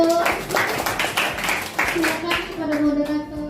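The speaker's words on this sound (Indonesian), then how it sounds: "tepuk tangannya dong." An audience claps at a school teachers' presentation on positive classroom culture, with steady scattered clapping throughout. Voices and talk run over the top, including a tonal voice near the end.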